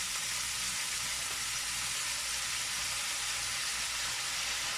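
Light soy sauce hits blackening beans in a hot pan, giving a steady, loud, broadband sizzle that holds evenly throughout with no talking.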